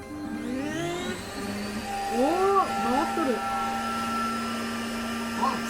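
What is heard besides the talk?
vacuum cleaner running, connected to Shapeoko 3 CNC router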